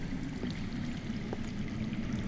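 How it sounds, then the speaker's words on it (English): Underground water flowing in a Game of Thrones video game; a steady, muffled rushing stream with a constant low wash and no clear breaks, faint and distant as if heard through rock. "I hear water. From underground."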